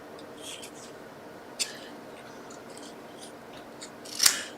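Scissors snip through card for a handmade birthday card, giving a few faint, sparse clicks and cuts in a quiet room, the last cut sharper and louder.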